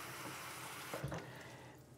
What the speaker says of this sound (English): put it in hot water, so just to, you know, give it a rinse.